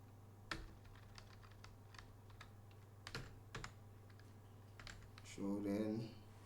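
Keystrokes on a computer keyboard come through as scattered clicks and short bursts at a quiet level, followed near the end by a brief murmur of voices.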